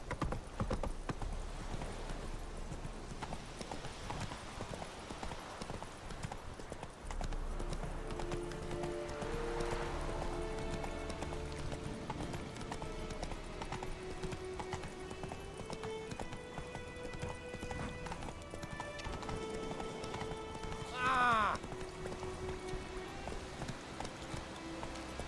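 Roach, the horse in The Witcher 3, gallops in a steady clip-clop rhythm under a quiet game music bed, with a brief whinny near the end.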